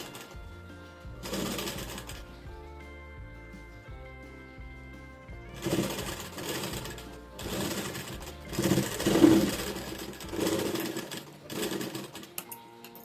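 Domestic sewing machine running bursts of stitching on a three-piece princess-cut blouse, loud rapid mechanical whirring that starts and stops several times, with steady quieter hum between runs.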